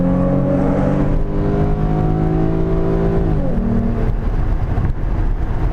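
A catless V6 Ford Mustang accelerates hard in a 60 mph roll, its engine drone loud and close, climbing steadily in pitch, dropping briefly at a gear change, then pulling again.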